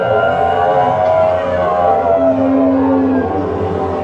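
A group of voices buzzes through their lips in a sustained, wavering tone imitating a siren, loud and continuous for several seconds.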